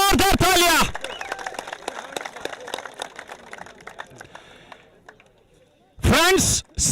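Crowd at a cricket grand finale ceremony clapping in a loose, rapid patter between loud bursts of an announcer's amplified voice at the start and end.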